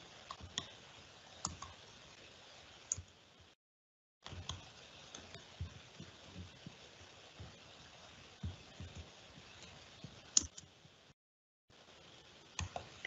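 Computer mouse clicking during Minecraft tree-house building, faint scattered clicks at irregular intervals over quiet background hiss, with brief gaps of silence.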